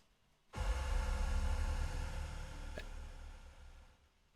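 A self-made sci-fi sting that swells in abruptly as a loud, dense wash of noisy sound, holds for a few seconds with a brief bright ping midway, then fades out.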